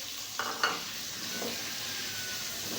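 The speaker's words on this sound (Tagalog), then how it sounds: "Ayan, gisa-gisa lang muna natin." Ground pork sizzles in a pan as it is sautéed with tomato and bottle gourd. A utensil gives a couple of quick stirring scrapes over a steady, soft frying hiss.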